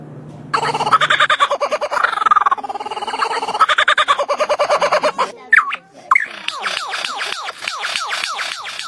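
A lyrebird mimicking other birds' calls, a close, loud run of rapid repeated gobbling and clucking phrases, then a brief pause and a sharp whistled note before a fast rhythmic series of chattering calls.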